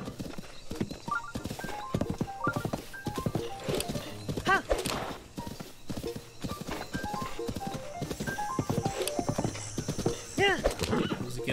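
Horse hooves clip-clop in a quick, regular gallop rhythm in the video game Zelda Breath of the Wild, with an occasional whinny and game music underneath while someone talks over it.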